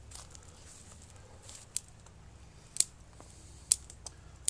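Pruning cuts on a bald cypress bonsai, with a few sharp, close snips of shears spaced irregularly over a quiet background and no talking.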